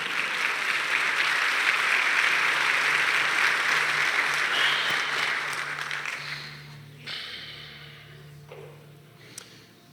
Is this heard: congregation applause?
yes